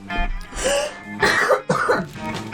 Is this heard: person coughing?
yes